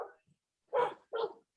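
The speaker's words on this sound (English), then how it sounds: "And I think Elise's dog has some points to raise." A dog barks twice, close and clear, with a short gap between the barks and no talking over them.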